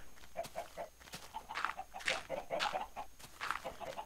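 Minecraft chickens cluck in short, repeated bursts, with soft chirpy calls recurring every half second or so over a quiet background.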